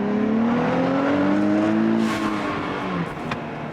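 A tuned Nissan Z pulls hard in second gear from just over 3000 RPM, its engine note steady and loud from inside the car with rising, droning tones throughout.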